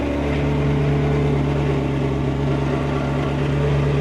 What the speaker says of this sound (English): engine issue, a rod knock